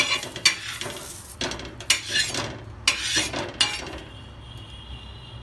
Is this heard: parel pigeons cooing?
no